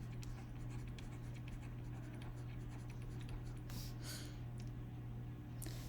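Pen or pencil writing out a geometry proof: soft, continuous scratching strokes up close, faint against a steady low electrical hum, with a few brief brighter scrapes near the end.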